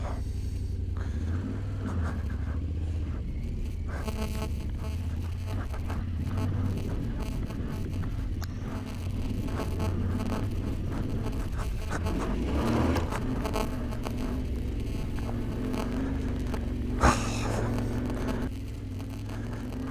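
A 2022 Yamaha Tenere 700 motorcycle climbs an off-road hill, a low engine rumble with scraping and crunching from the ground and a sharp knock near the end, fairly quiet and without talk.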